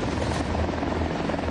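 A military helicopter carrying four commandos at a National Guard anniversary ceremony drones steadily at a distance, its rotor chop forming a constant, moderately faint hum with no voices.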